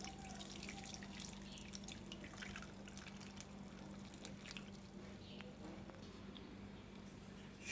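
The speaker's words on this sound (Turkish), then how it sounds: "hazırlamış olduğum badem sütünü süzeceğim ve tortularından ayıracağım" Homemade almond milk poured in small amounts through a cheesecloth strainer, a faint continuous trickle and patter of dripping liquid, close by, with no one talking.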